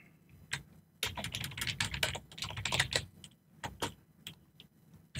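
Code is typed on a computer keyboard in quick, close bursts of crisp keystrokes separated by short pauses, with no talking.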